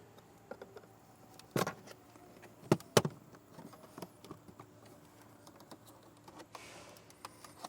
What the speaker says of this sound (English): We'll pop out this little side panel here.